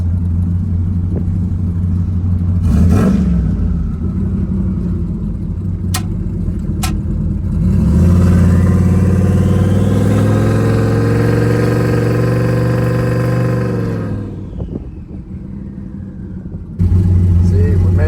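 A car engine runs steadily while cruising, then swells into a louder, rising drone as the throttle opens around the middle, drops back and returns to a steady hum near the end, with speech over parts of it.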